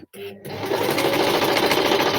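A sewing machine runs a forward straight stitch through felt, starting after a brief pause and then whirring steadily and loudly at close range for about two seconds.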